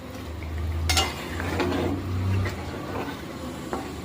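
Chicken being stir-fried in a pan for Bengali chicken kosha, with a steady low sizzle and intermittent scraping and stirring clatter throughout, fairly close and without talk.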